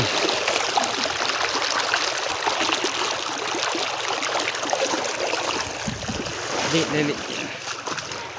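A clear river flows past at Sitio Kinarasyawan, giving a loud, close, continuous rush and burble of moving water with small splashes. Voices can be heard under the flow.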